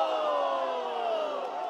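A rowdy crowd of fans packed into the street, with riot police nearby, keeps up a steady wall of cheering and chanting of a national chant for the whole stretch, dense and close, with no single voice standing out.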